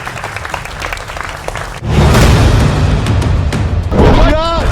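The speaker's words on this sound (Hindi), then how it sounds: "जोरदार तालियों के साथ अभिनंदन है व्यूअर्स आपका" Studio audience clapping breaks out loudly for a weekend special TV political debate on BJP vs Congress, a dense sustained wash of applause with a voice talking briefly near the end.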